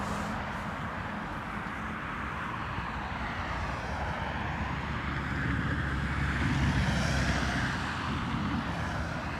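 An Aer Lingus airliner arriving from Amsterdam at Dublin Airport on a windy early morning, its engines a steady distant roar that swells slightly toward the end, with no voices.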